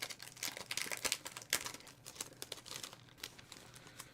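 A resealable plastic packet of scale model decals and photo-etch being handled and opened, giving close, crisp crinkling and rustling in quick irregular bursts with no talk.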